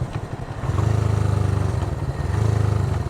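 A Honda CB360 motorcycle ridden through a right turn, its engine putting out a close, steady pulsing drone that dips briefly early on, then holds a loud throbbing rhythm.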